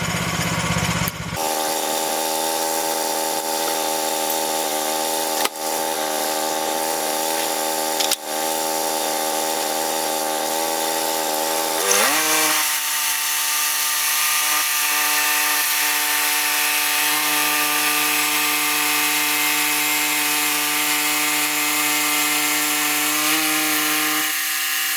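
A sawmill engine drones steadily while a blade slices a board from a yellow pine log, the pitch shifting midway as the cut bites in and a harsh, sustained whine continuing; a couple of sharp clicks punctuate it.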